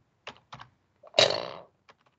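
A few sharp keystrokes on a computer keyboard, spaced out and close by, with one longer burst of clicking in the middle of an otherwise quiet stretch.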